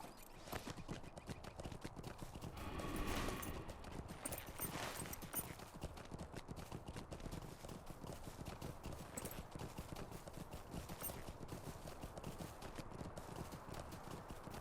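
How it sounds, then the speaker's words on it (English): Horse hooves clip-clop steadily in the LOTRO video game as a mounted character rides along, a brisk, even rhythm that continues from start to finish at moderate loudness with no talk over it. "Let me get on my horse."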